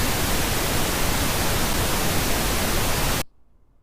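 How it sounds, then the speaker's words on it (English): A pink noise test signal plays as a loud, steady broadband hiss, then cuts off abruptly into near silence. "This is what pink noise sounds like."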